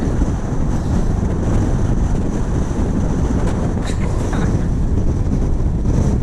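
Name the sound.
strong wind blowing on a hillside walk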